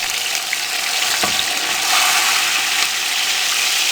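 Finely chopped green chilies and tomatoes hit browned frying onions in hot oil for a vegetable pulao, giving a loud, steady, close hiss of sizzling throughout with no talking.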